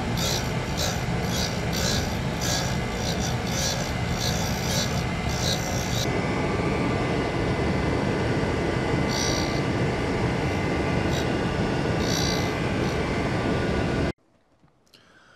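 A tool grinder roughs out the profile of a ball nose endmill in a sharpening job, giving a loud, continuous grinding hiss and whine at close range with faint rhythmic ticking, before cutting off abruptly near the end.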